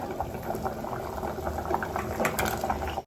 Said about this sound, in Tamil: காரக்குழம்பு நல்லா கொதிச்சிருக்கு